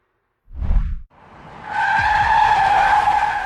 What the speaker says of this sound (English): The driver slammed the brakes, but it looked like it was too late.